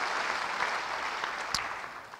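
A church congregation applauds, a dense, steady wash of clapping from many hands that fades slightly toward the end.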